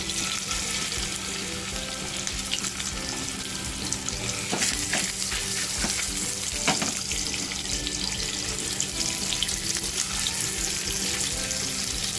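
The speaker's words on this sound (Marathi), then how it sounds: "जे पनीरचे तुकडे घेतलेत ना ते आपल्याला फ्राय करून घ्यायचे आहेत" Paneer pieces fry in hot oil in a small pan, giving a dense, continuous crackling sizzle heard up close with a few sharper spits and no talking.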